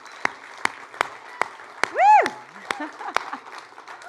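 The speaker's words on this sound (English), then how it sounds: "let's just give them all one big last round of applause." Audience applause for startup teams at an AngelCon 2022 pitch event: sparse, distinct claps rather than a dense roar, with one loud whoop cheering in the middle and a few voices mixed in.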